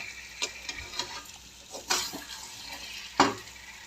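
Chicken frying in oil in a pan for Bengali chicken kasundi: a soft, steady sizzle with several scraping stirs of a spoon or spatula, close and fairly quiet, and no talking.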